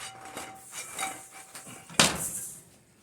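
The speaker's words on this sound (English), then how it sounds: "all I'm doing is going to incorporate the sauce into the wings in the wok" Oyster sauce chicken wings get tossed in a metal wok, with scattered clinks and scrapes and then a sharp, loud metallic clang near the end. Nobody speaks.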